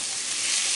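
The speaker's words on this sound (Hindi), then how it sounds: "इसको हमने एक तरह से स्टिर फ्राई करना है, इसको फ्लेम को हाई रखें" Onions stir-frying over a high flame for chana chaat, giving a steady, loud close sizzle and hiss that holds evenly throughout with no talk.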